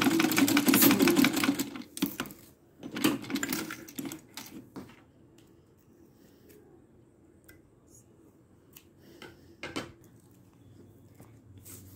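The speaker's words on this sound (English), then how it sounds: "So we are sewing the elastic side of the sleeve." A sewing machine stitches the elastic side of a sleeve for an A-line top, running in a loud burst at first, then in shorter runs that stop and start with quiet gaps between them.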